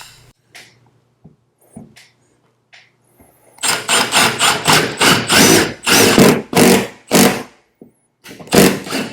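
Bursts of a power drill driving screws into a kayak lift mount, loud and close, several rapid pulses after quieter handling clicks and knocks at the start.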